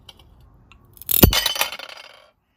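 A ceramic plate piece snaps in half under mosaic nippers for a mosaic, a single sharp crack that falls into a brief clinking scatter of fragments before silence.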